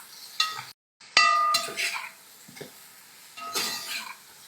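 Onion sautéing in oil in a pan, with scattered clinks and scrapes of a utensil against the pan and a light sizzle underneath, coming in short separate bursts.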